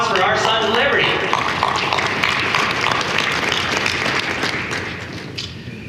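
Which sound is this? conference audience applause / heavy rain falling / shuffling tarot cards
conference audience applause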